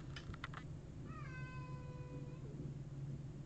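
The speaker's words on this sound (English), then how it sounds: "My cat's suddenly crying." A cat cries once from behind a door, a drawn-out wavering meow that sounds muffled and moderate in level over steady room noise.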